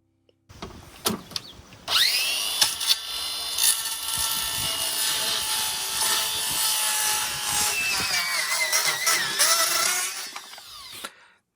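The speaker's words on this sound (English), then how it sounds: "Now I'm cutting the shape of where the light's going to go." A power tool whines loudly and steadily as it cuts through material for about nine seconds, with rasping and scraping around the start and finish.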